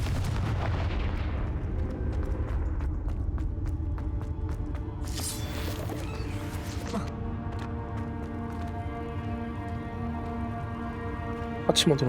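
A Confringo fire spell blasts in Hogwarts Legacy, heavy booming low-end rumbles and bursts filling the scene amid game effects, with a person talking over it.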